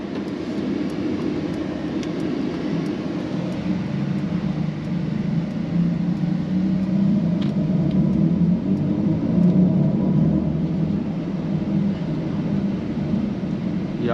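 A 617 hp 2023 Mercedes-AMG EQE electric sedan accelerating, a steady low rumble and road roar that holds and swells slightly from start to finish, heard from inside the cabin with no talking.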